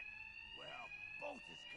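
Steady electronic alarm ringing in Batman: Arkham Knight, a continuous high tone held throughout, with a voice talking briefly over it.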